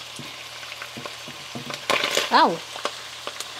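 Onion and garlic frying in hot oil for lumpia, a soft steady sizzle with stirring clatter and a sharper spitting burst midway; a voice briefly exclaims in pain.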